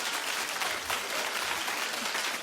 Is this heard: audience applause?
yes